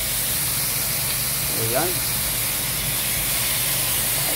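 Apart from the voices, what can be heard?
pork adobo frying in pan with sauce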